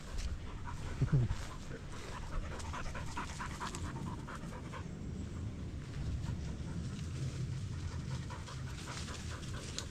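A dog pants steadily with a brief whimper early on, moving through woods near wind turbines in France, fairly close and continuous over a steady outdoor background.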